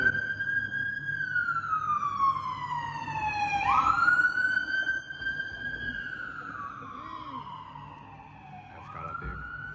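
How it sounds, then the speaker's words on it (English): A wailing emergency siren in Prague sweeps up and down in pitch, loud and fairly close, with a low traffic rumble beneath it. "Gotta love sirens, am I right?"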